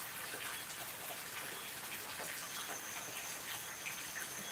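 Faint, steady rain hisses evenly throughout, a soft continuous patter with no voices.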